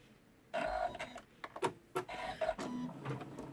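An embroidery machine stitching a quilt block in its hoop, irregular bursts of mechanical whirring and clicking start and stop over a few seconds, close and moderately loud, no talking.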